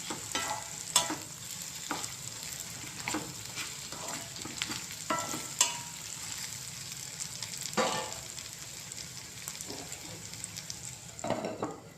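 Bitter gourd (kakarakaya) slices frying in a pan with a steady sizzle, broken by repeated scraping stirs of a spatula every second or so, close and continuous with no one talking.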